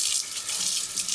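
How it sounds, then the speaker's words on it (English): Water runs steadily from a faucet into a sink for hand washing, a continuous close hiss with no voices over it. "Turn on the water."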